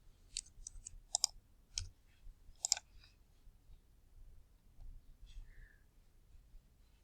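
A computer mouse clicks several times in quick, faint taps over the first few seconds, then a quiet stretch follows.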